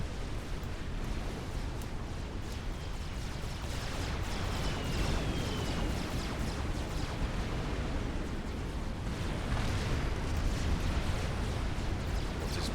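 Continuous rumbling torpedo hits and explosions from a Supreme Commander 4v4 naval battle, dense broadband blasts swelling and overlapping with no pause, loud and close.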